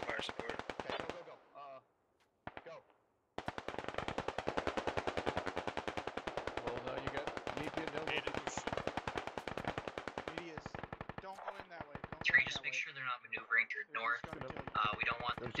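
Suppressing machine gun fire in a military operation, long rapid continuous bursts with brief pauses, loud and close, with a voice speaking over the shooting.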